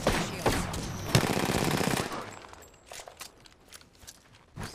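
Rapid automatic gunfire in the video game Apex Legends, a loud dense burst of shots for about two seconds, then scattered fainter single shots and clicks at a distance.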